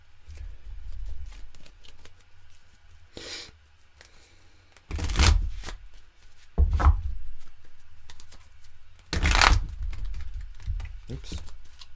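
Tarot-style cards shuffled and drawn for a card reading: soft riffling and sharper slapping bursts at intervals between quiet stretches, with a person talking in between.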